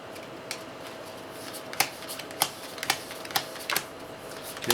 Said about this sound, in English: I'm going to go ahead and shuffle this up some.